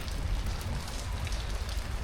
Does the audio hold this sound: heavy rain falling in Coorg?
yes